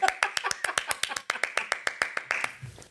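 A woman claps her hands in a steady, even rhythm, about twenty close, crisp claps in a quiet room, tapering off at the end.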